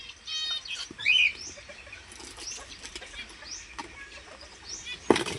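A pet bird is set free outdoors, with a brief burst of wing flapping followed by scattered chirps and calls from birds nearby, plus a sharp knock near the end.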